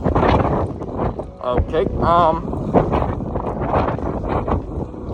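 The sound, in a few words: wind on the upper deck of a cruise ship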